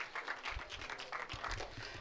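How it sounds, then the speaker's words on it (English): An audience at a bowling tournament finals gives a round of applause, a brief burst of many hands clapping at moderate distance, fairly soft and sustained. "let's give him a round of applause"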